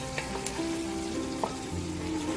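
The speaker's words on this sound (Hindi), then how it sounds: "ये मैंने ऑनियन पतीले में डाले हैं" Onions frying in oil in a pot for a beef paya masala, giving a steady close sizzle with a few soft stirring knocks and no talking.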